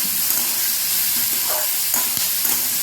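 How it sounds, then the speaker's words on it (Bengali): Potatoes fry in a pan with salt and turmeric, a close, steady sizzling hiss with scraping and shuffling as they are stirred, and no talking. "এখন এটাকে নাড়াচাড়া করে বেশ সুন্দর করে একেবারে নরম করে ভেজে নেবো"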